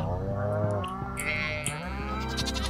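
Sheep on a Stardew Valley farm bleat several times in quick, overlapping wavering calls, close and clear within the game's sound.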